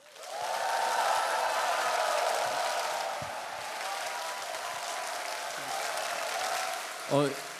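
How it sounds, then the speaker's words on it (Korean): Steady audience applause greeting a family psychology professor at a lecture event, a sustained wash of clapping lasting several seconds at moderate level with a brief louder bump near the end. "한세대학교 최광현 교수님을 뜨거운 박수로 맞아주시죠"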